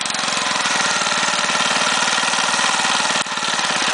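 Small outboard boat motor running steadily in gear with the throttle opened, a loud close continuous engine drone with a fast pulsing rhythm, briefly dipping near the end before carrying on.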